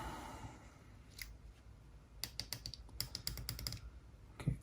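Small clicky switches on an AIWA HS-RX30 cassette walkman snap in quick close bursts of sharp clicks, some in rapid clusters, over a quiet bench background.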